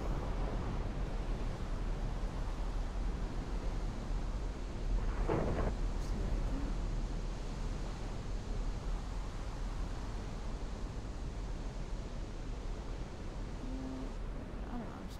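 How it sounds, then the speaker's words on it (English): A hail storm in Minecraft pours down as a steady, dense wash of pattering noise that never lets up, with one brief sharper crack partway through. "It is hailing."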